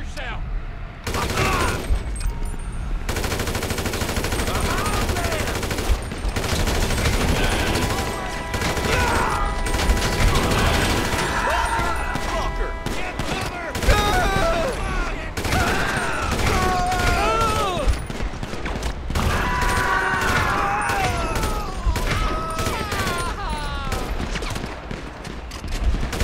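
Gunfire in GTA V ringing out in bursts amid a busy, loud game scene, with game characters talking and shouting over the shots throughout.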